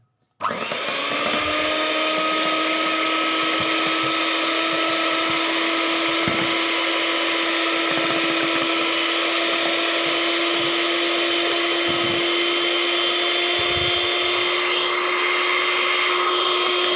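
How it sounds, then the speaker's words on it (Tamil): An electric beater whips eggs for a brownie cake, its motor whining loud and steady for the whole stretch after a quick start, with small dips and knocks as the beaters move through the bowl. "இப்போ இதை வந்து பீட்ரு வச்சு நல்லா பீட் பண்ணி எடுத்துக்கலாம்."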